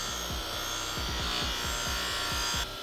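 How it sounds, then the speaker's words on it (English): Buffing wheel whirring steadily against a dirt bike cover, a continuous close motor drone with quick rhythmic pulses of the wheel, cutting off abruptly near the end. "just apply more pressure to the wheel as you're buffing"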